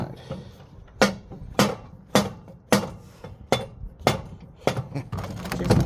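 A hammer strikes a 1936 Oldsmobile custom driveline part in a steady series of about eight loud metallic blows, roughly one every half second, close by, with scraping and clinking between hits.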